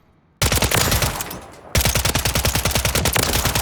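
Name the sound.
WSP9 SMG firing slowly in Warzone video game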